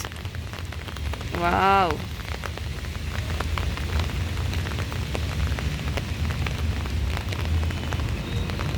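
Steady monsoon rain pours onto Kamal Pokhari pond in Kathmandu, a dense, even hiss close by throughout, with one short voiced exclamation near the start.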